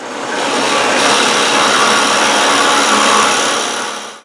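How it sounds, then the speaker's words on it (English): A drill press bores half-inch holes for bushings in a part for an extendable table, giving a loud, steady whirring grind that runs unbroken for about four seconds before cutting off. "I just need to go over the drill press and cut those 1/2 inch holes for those bushings on here."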